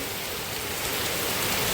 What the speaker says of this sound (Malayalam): നല്ല മഴ തകർത്ത് പെയ്യുക